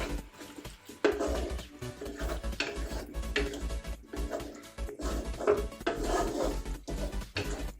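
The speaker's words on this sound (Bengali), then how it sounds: "এখন আমি আলুগুলো দিয়ে দিচ্ছি। আমি আলু সহ এখন কিছুক্ষণ কষিয়ে নেব।" Potatoes and chicken are stir-fried in a pot, with repeated scraping and knocking of a spoon against the metal and a soft sizzle beneath, close and rhythmic.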